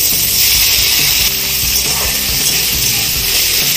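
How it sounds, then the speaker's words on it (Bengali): Potatoes frying in white cooking oil in a kadai give off a loud, steady hiss of sizzle, close up and continuous with faint scraping underneath, no voices. "আগে আমি কড়াইতে সাদা তেলে একটুখানি আলুটাকে ভেজে নেব।"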